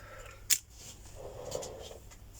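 Scissors handled and set down on a crafting table, a sharp metallic clack near the start followed by faint shuffling and a soft tap, close and quiet with no talking.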